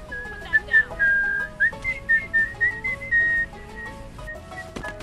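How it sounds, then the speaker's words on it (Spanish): Characters in the video game Goat Simulator 3 whistle a wandering, warbling tune, with several whistled lines overlapping against busy game sounds, fairly loud and close, with no talk. "Por lo que veo, silban todos"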